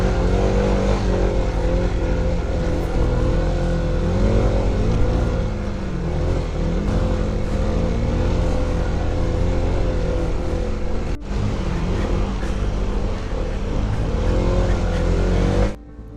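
An engine drones steadily while tires roll over a slippery dirt trail, loud and close the whole time, with a brief dip near the end.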